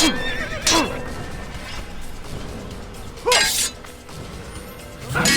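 Horse in a video game lets out two loud whinnies, one near the start and another a few seconds later, over a steady backdrop of game ambience and faint mechanical noise.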